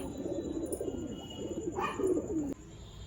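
Fancy pigeons cooing in a pigeon loft, a close, continuous low rolling coo with repeated throaty pulses, plus a brief higher call near the end.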